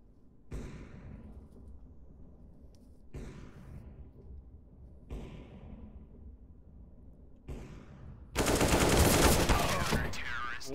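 AK rifle fire in Counter-Strike: four separate sharp shots spaced about two seconds apart, each ringing briefly, then a louder rush of noise and clatter at the close.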